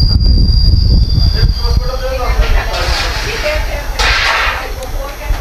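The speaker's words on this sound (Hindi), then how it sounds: "ब्रेकफास्ट खाते खाते हमारा ट्रेन का खंडाला हॉल्ट आ गया" Deccan Queen train wheels squealing with high metallic screeches as it slows to a halt at Khandala, loud rumble and clatter underneath, a voice speaking over the rail noise.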